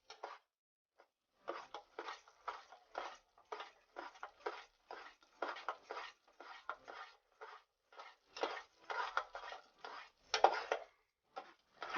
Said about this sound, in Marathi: बघा तुम्ही असं ढवळत राहायचं.